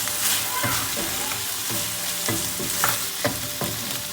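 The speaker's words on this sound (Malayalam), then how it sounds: "ഇനി നമുക്കതിലേക്ക് തക്കാളി ചേർത്ത് കൊടുക്കാം" Tomatoes frying with browned onions for chicken curry, a loud, dense sizzle with a regular rhythm of spatula strokes scraping the pan, no speech.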